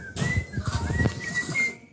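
A man gives a short, sliding whistle to call his tame sparrows, a thin tone rising and falling over about a second and a half amid nearby rustling and soft outdoor noise.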